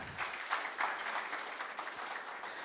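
Following a keynote by a deputy Reserve Bank governor at an innovation space launch, a crowd gives a round of applause, a soft, even wash of many hands clapping at moderate distance.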